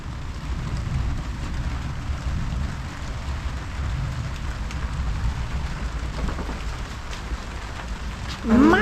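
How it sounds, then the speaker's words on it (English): Steady rain falls outdoors in a continuous, even wash of noise that persists throughout, with a brief louder burst right at the end. "We have rain."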